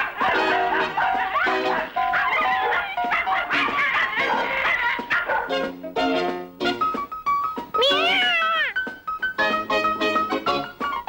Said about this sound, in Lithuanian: Ir staiga atsirado katinas.